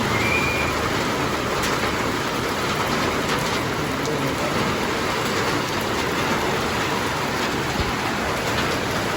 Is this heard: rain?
yes